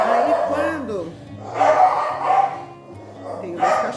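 A dog barks and yips in a few short bursts, fairly close, mixed with whimpering sounds.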